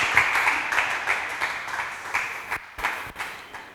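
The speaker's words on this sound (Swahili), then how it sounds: "Wanaweza tena kashangilia Bwana Yesu kwa makofi" A church congregation claps in praise, a dense run of hand claps at steady moderate loudness with a brief dip near the end before clapping resumes.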